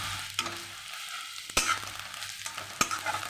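Sliced radish and raw green chillies sizzle in hot oil in a kadai, with a steady frying hiss broken by a few sharp scrapes of a spatula stirring the pan.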